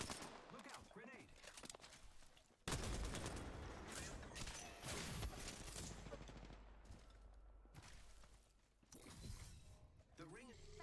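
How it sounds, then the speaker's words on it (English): Dense gunfire from an Apex Legends match runs almost the whole time, sustained bursts with sharp onsets, mixed with game effects and talking. "They're shooting at me."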